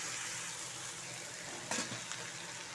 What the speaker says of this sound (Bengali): মশলাটা কষানো হয়ে গেছে, দিয়ে দেব ফুলকপি আর আলুগুলো